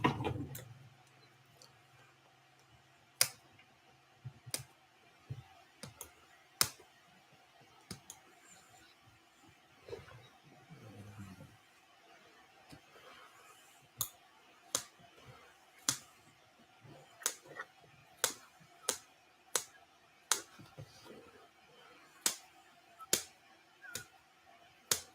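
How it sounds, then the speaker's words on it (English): Scissors snipping a fabric gusset during bag sewing: sharp, quiet, irregular clicks and snips scattered throughout, close by, with faint movement between them. "gonna snip that gusset again"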